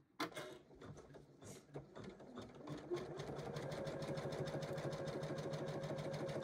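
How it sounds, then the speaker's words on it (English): An embroidery sewing machine stitches a tack down stitch on an in-the-hoop Christmas stocking: a few hesitant starts, then a fast, steady mechanical chatter of needle strokes, close and alone. "the machine's going to do the same thing again. It's going to do what they call a tack down stitch"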